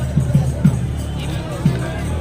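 Pilgrims crowding the Maha Kumbh gathering: a dense murmur of overlapping voices with a few louder nearby speech bursts rising above the steady background babble.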